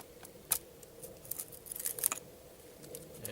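A baton splits cedar wood into thin pieces at a solo winter camp, giving a few sharp, crisp cracks and taps that are faint and spaced apart, with no talking.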